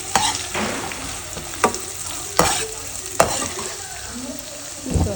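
Ginger garlic paste and onions frying in a pan on a stove, a close, steady sizzle broken by several sharp scraping stirs at irregular intervals.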